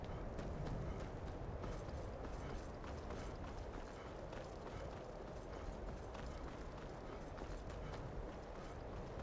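Horse hooves clip-clopping in the game Skyrim, a quick, steady rhythm of hoofbeats running under a soft, continuous background hiss.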